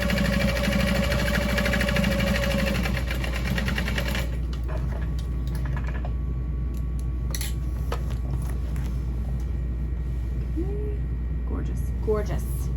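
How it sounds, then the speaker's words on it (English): Sewing machine running steadily while stitching a second row on a small backpack, a continuous close mechanical whir for about four seconds, then stopping, leaving quiet room noise with light handling clatter. "To add a second row of stitching"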